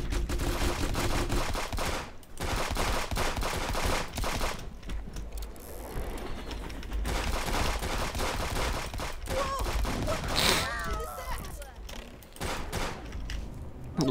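Dense, continuous barrage of rapid gunfire from a large array of turrets in a video game, loud bursts layered with mechanical clatter and ratcheting, briefly dropping out before resuming.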